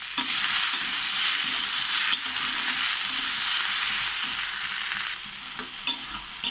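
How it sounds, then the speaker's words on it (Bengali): Green peas are stirred and fried in a pan for kachori filling, a steady close sizzle with scraping stirs and occasional clinks of the spatula, no talking. "দিয়ে এটাকেও আমি আরও কিছুক্ষণ নেড়ে চেড়ে হালকা করে ভেজে নেব"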